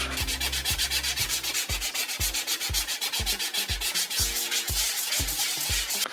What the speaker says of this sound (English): Wet and dry paper, sandpaper, all I'm going to do is I'm just going to gently scuff in this area here